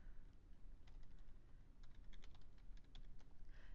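Typing on a computer keyboard, scattered light key clicks in irregular bursts, quiet and fairly close, over a steady low background hum.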